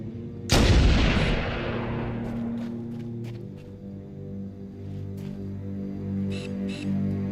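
A single loud gunshot from Halo: Combat Evolved bursts out and echoes away into a low, droning game soundscape during a stealth mission, followed by faint clicks.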